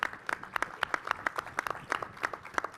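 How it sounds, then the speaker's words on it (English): A modest group of audience members claps at a panel discussion, individual claps standing out as sparse, irregular bursts rather than a full roar, fairly close and without talk. "Clap it up for yourself."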